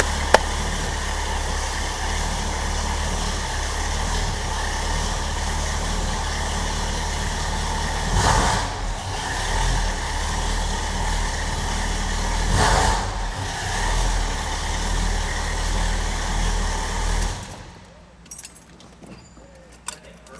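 A Pontiac GTO muscle car sits running with a steady, loud engine and exhaust rumble, with two brief louder swells partway through, before the sound drops away abruptly near the end.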